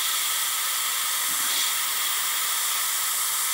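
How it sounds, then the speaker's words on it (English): An airbrush spraying MRP lacquer through a 0.35 mm needle gives a steady, even, close-up hiss of air that runs unbroken with no talking. "Airbrushing something this tiny on camera is pretty ballsy."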